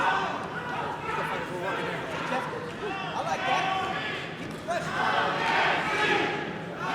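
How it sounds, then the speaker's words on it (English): Arena crowd at an Oklahoma City Bellator MMA event roars and chants in steady waves, the dense noise swelling and dipping throughout with no clear single voice. "the crowd with chants of OKC"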